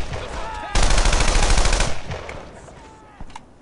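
Machine gun fire in the World War II game Brothers in Arms: Earned in Blood, a loud close burst of rapid automatic shots lasting about a second, followed by fading echoes and a lone later shot.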